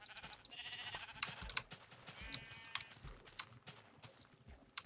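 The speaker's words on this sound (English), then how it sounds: "well, obviously hit some sheep." Sheep bleat repeatedly in Minecraft, several quick, clear calls in a row over a faint background, with no talking.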